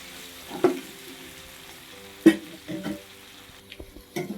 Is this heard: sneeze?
no